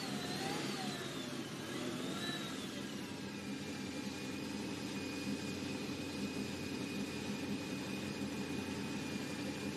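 Drift car engine on a circuit, revving and winding through rising and falling pitch before settling into a long steady whine, heard from a distance over constant background rumble.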